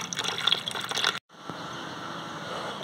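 Water from a cheap solar pump trickles into a construction tub. A splashy, bubbling pour cuts off abruptly, then resumes as a steady, softer trickle.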